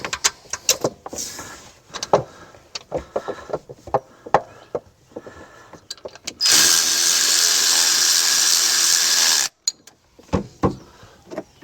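A power tool drives a bolt back in on a 2007 Jeep Liberty, one loud steady whir lasting about three seconds, preceded and followed by sharp close metallic clanks and tool handling knocks, with no talk.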